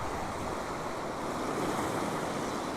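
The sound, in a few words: ocean waves on the Queensland coast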